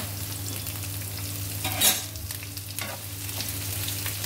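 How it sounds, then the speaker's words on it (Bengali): Onion and green chilies sizzle in hot oil for a bitter gourd and small shrimp dish, a steady close crackle with a brief louder burst of spattering midway, no voices. "তেল নিয়ে নিব, পেঁয়াজ কাঁচামরিচ দিব"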